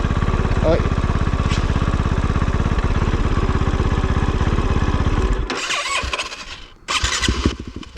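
A Kove 450 Rally enduro motorcycle engine turns over and runs in a loud, rapid, buzzing rattle for over five seconds, then cuts out and sputters in two short bursts, close to the listener.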